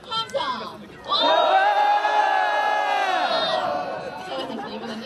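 A crowd of marathon participants led in a warm-up exercise lets out a loud, sustained collective shout of voices, rising sharply after a brief lead-in and holding strong before tapering off.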